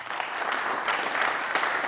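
Audience applause at an evening parents' club event, a dense, even burst of many hands clapping throughout, fairly loud with a faint crowd murmur.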